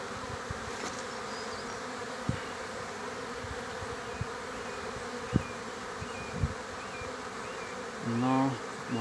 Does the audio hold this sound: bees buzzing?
yes